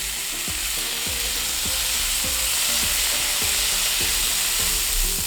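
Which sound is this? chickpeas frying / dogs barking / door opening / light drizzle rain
chickpeas frying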